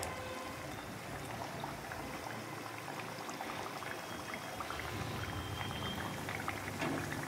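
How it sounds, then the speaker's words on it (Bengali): Gaja dough pieces placed in cool oil and frying slowly, a continuous low bubbling sizzle at moderate level with no voices. "এটাকে ঠান্ডা তেলে দিয়ে আস্তে আস্তে ভেজে নিতে হবে"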